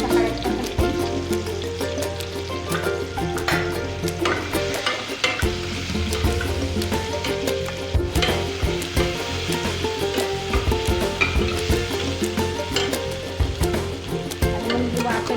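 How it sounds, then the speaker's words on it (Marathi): Ground spice paste fries and is stirred with tomatoes in a pan for a horse gram usal, a steady loud sizzle with repeated scraping of the spoon throughout. "वाटण थोडंसं परतून घ्यायचं"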